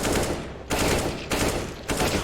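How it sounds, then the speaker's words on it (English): Rapid automatic gunfire from shooting at bots in Counter-Strike, loud close bursts in three or four clusters separated by brief pauses. "get in between the bots and just shoot at them"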